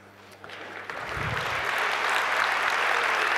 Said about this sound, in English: Oh, I'd stop clapping.